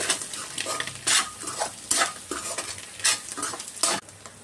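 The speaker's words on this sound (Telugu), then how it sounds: "ఇప్పుడు ఇవన్నీ ఒకసారి కలుపుకుందాం బాగా" Chili powder, coriander powder and garam masala stirred together in a pan for roadside-style egg fried rice, rhythmic loud scraping strokes about once a second over a continuous sizzle.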